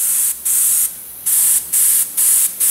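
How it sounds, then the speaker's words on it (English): Spray gun applying fluorescent green paint as a tack coat onto a metal panel, in several loud close bursts of hissing spray separated by short pauses. "So we're going to spray this panel."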